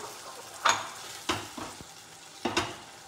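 Blended corn mixture stirred in a hot pan, soft scraping strokes at intervals over a continuous low sizzle, no talking.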